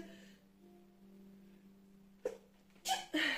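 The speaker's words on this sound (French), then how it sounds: "je vais éternuer toutes mes excuses." After a quiet hum, a sharp close sneeze bursts out near the end, preceded by a quick intake of breath.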